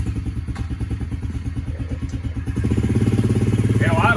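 A Yamaha TT-R110 dirt bike fitted with an upgraded carburetor and exhaust idles steadily close by, a low, even single-cylinder putter that grows a little louder partway through.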